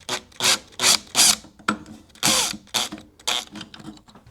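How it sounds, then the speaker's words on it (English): Screws being backed out of the plastic handle of a Primeweld 225x welder with a screwdriver, heard as loud, close ratcheting, rasping bursts in a steady rhythm, alone without talk. "so you have to get these screws all the way out."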